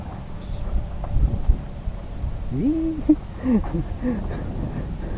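A bird calls near a rest house in a quiet rural setting, giving a few short, wavering tonal chirps over faint low background rumble.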